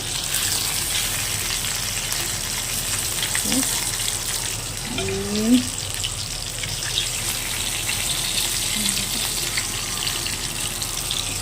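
Hilsa fish pieces fry in oil with a steady, dense, close sizzle that carries evenly throughout, marked by a few faint splatter pops and a brief louder clink partway through.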